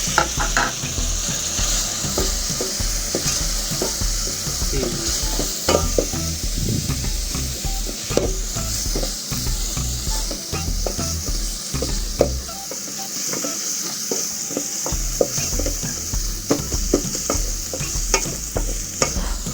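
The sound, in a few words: ginger, garlic and spices frying and being stirred in pan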